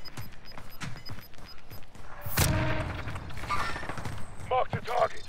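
Gunshots in a first-person shooter video game, with one loud close blast near the middle standing out over softer background firing and mechanical clatter, while players talk around it.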